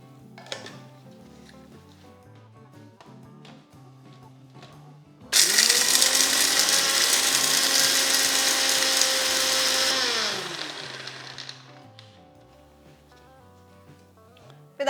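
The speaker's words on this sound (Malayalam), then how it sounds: "ഇത്രയും ചേർത്തൊന്ന് പൊടിച്ചെടുക്കാം." A mixer grinder whirs loudly for about five seconds, grinding Kashmiri chilli powder and whole spices into biryani masala, starting abruptly and winding down at the end, with quiet background music around it.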